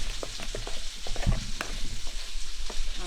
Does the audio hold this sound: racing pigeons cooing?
no